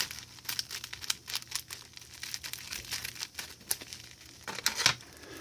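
Plastic wrapping on a Banana Pro kit package crinkles and tears as it is cut open, a close run of irregular rustles and crackles with a sharper rip near the end.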